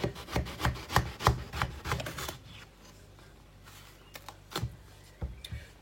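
A knife chops food into small pieces on a board with quick, rhythmic close taps in a fast run, then a pause and a few scattered cuts. No one talks.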